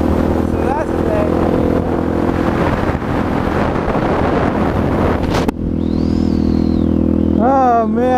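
A supermoto motorcycle engine drones steadily with heavy wind buffeting, then the wind drops away and the engine note rises and falls as the rider shifts.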